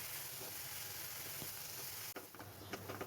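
Mustard paste frying in a pan as filling for stuffed pointed gourd, a soft, steady sizzle that briefly dips, then crackles again with light stirring, no voices.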